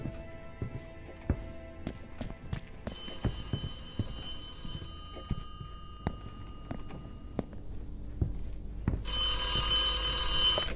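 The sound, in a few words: public payphone ringing in video game The Occupation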